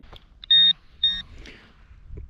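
Metal detector sounding a signal over a clump of soil during a metal-detecting search outdoors: two short, loud, high electronic beeps in quick succession, followed by faint rustling.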